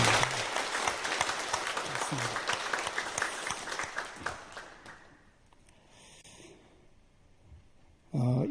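Church congregation applauding during a Sunday service at a Methodist church, a dense, fairly loud clapping that runs for about five seconds and then fades out, with a brief burst of sound at the very end.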